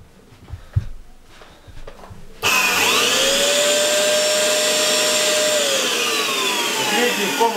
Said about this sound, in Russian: Включаю пылесос.